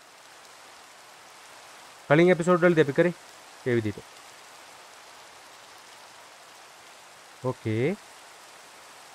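Steady rain in Minecraft, a soft even hiss running throughout with a young voice speaking in short bursts over it.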